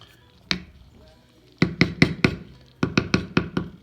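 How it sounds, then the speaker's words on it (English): Canned tuna being added to a casserole: a single knock, then a rapid series of sharp taps and thumps as the can is knocked against the dish, close and fairly quiet. "So let's add our tuna."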